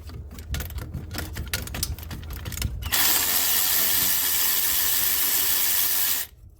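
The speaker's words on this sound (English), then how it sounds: "the next bolt we want to get off is the flange gasket for the exhaust, for the outlet. So just crack that." Ratchet wrench cracking loose the exhaust outlet flange bolt on the twin turbo of a 2017 Mercedes Sprinter 2.1L, a fast run of close metallic clicks, then a steady loud hiss for several seconds that cuts off abruptly.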